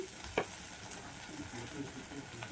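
Spices being stir-fried in a pan of shol fish curry as salt and turmeric go in, a low steady sizzle with a soft scrape of stirring and a brief clatter near the start, no voices.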